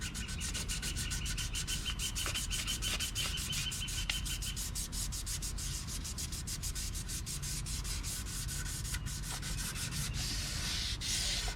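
Steady wet sanding with 1000 grit sandpaper on a part of a 1987 Yamaha FZR 1000 motorcycle, a continuous rhythmic scratchy rubbing at even loudness, close up with no talking.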